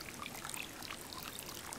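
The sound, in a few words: waterfall in video game Birthdays The Beginning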